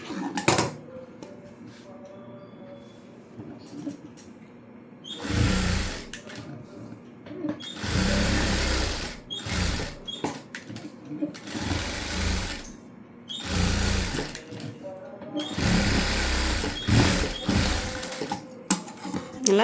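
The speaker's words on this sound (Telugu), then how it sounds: "ఈ విధంగా చుట్టూ స్టిచ్ చేసుకోవాలి." A sewing machine stitches around a blouse lining in several bursts of loud, close whirring, separated by short pauses as the fabric is turned.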